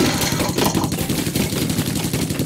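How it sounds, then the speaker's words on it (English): Continuous rapid gunfire from the tactical video game Silent Storm, a dense, loud stream of shots with no pauses and no voices. "Yeah, I shot you a few times."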